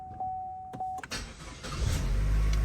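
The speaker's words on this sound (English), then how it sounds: "So start the car." A 2013 Chevrolet Cruze with a 1.4L turbo engine cranks and catches, after a steady chime and a few clicks, then settles into a loud, close idle rumble.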